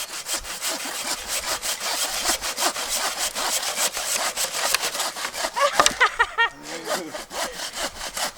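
Hand saw cutting through firewood at a woodland campsite, fast rhythmic back-and-forth strokes, loud and close, ending with a creak and crack as the log splits.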